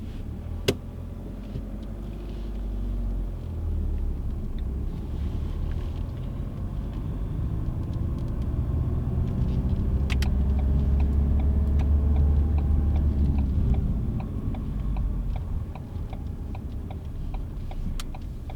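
A car drives along a road during a beginner driving lesson, with a steady low engine and road rumble heard from inside the cabin, plus the rhythmic ticking of an indicator and a few faint clicks.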